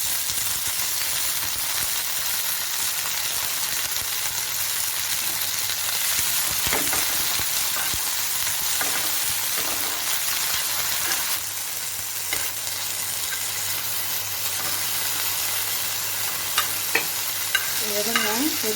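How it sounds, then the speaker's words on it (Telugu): Mint leaves frying in a kadai, a continuous loud sizzle and hiss of oil with occasional stirring scrapes, steady throughout and heard up close without talk. "అదే కళాయిలో కడిగి పెట్టుకొని పుదీనా వేసి ఫ్రై చేసుకోవాలి."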